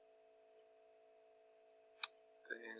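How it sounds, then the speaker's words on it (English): A single sharp mouse click on a download button, a brief crisp transient set against a faint steady hum, with someone starting to speak just after it. "I'll click on download button."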